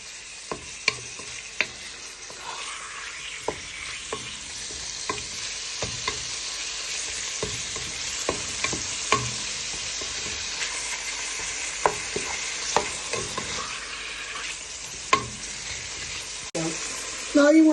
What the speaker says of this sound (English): Now you want to place in all your onion, garlic and peppers. You want to give this all a good stir so it brings out flavour to the pan.